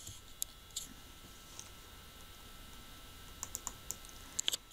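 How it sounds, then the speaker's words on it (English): Typing on a computer keyboard while entering an Excel formula: a scattered run of quiet, crisp key clicks, with a small burst of taps near the end, over a faint steady room hum. "So let's start typing this in"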